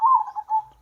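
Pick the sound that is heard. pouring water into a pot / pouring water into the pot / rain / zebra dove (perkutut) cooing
zebra dove (perkutut) cooing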